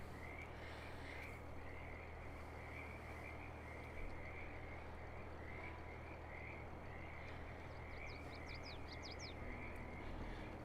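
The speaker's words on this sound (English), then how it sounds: "Shut up, frogs." Frogs croak in a steady, continuous chorus inside a farming simulator game, a dense pulsing drone with faint bird chirps appearing briefly toward the end.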